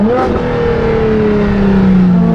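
A loud LaFerrari engine drones and revs steadily at slow speed in a tunnel, its pitch sliding slightly, with a booming, enclosed quality and no talking.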